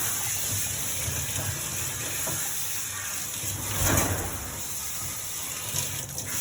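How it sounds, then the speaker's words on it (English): Water sprayed steadily from a hose nozzle while bathing a Portuguese Water Dog, a continuous close hiss and gush with a brief surge partway through and no talk over it. "I'm closing it over like this and spraying the water"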